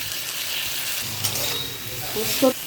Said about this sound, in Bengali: পোস্তটা ভালো করে ভাজা ভাজা হয়ে গেছে।